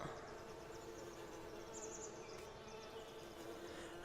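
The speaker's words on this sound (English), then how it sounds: "I can hear a lot of bees." A soft, continuous hum of many bees buzzing together in the video game Farming Simulator 19, steady and unbroken throughout with no voices.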